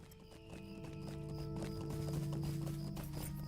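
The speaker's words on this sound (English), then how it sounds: "We're going to be polite and get off our horse." Horse hooves clip-clop steadily in a video game, a continuous rhythmic trotting patter with a faint whinny-like tone, fairly close and alone without talk.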